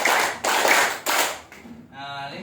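A group claps together in a clapping game, delivering a quick run of loud, dense bursts of applause-like slaps in steady rhythm, followed by a brief voice as the clapping stops.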